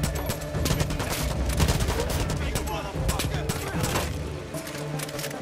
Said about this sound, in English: Chavez, they are blowing stuff up with grenades.